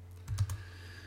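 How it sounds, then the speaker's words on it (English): A few quick keystrokes on a Hungarian-layout Mac keyboard, three or four close soft clicks in fast succession, then quiet. "I need to type crazy keys on this Hungarian Mac to get the right brackets"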